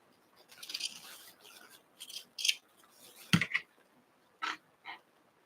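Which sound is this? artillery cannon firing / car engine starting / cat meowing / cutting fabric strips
cutting fabric strips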